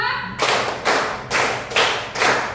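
Five loud, evenly spaced group claps from a classroom of students, each a broad smeared burst of many hands striking together, close and unaccompanied by speech.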